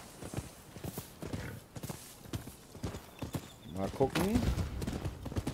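Horse hooves galloping in a rhythmic clip-clop while riding in the video game Rise of the Ronin on PS5, moderately loud under someone talking, with a horse whinny near the end.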